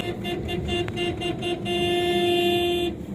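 A car horn sounds in short repeated toots, then one long sustained blast, on a blacktop road through the desert where camels stand on the road, with engine noise beneath.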